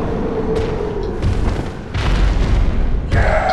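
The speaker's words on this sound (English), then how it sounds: "throw Molotov cocktails at her" Molotov cocktails bursting into flame in Bloodborne game, a few deep booming whooshes spaced a second or so apart, loud and close, with fiery crackle trailing each hit.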